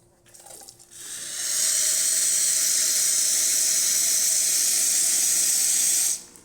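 Hot water pours from the steam wand of a Rocket Appartamento espresso machine in a loud, steady hiss that builds over a second, runs about five seconds and then cuts off abruptly.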